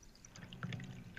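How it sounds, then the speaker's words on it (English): Coffee pouring into a cup during a morning chat: a brief, soft liquid trickle with small splashy drips, fairly close but quiet. "Because I'm pouring the coffee."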